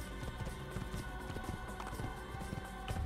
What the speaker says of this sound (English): This horse, I swear, can jump over anything.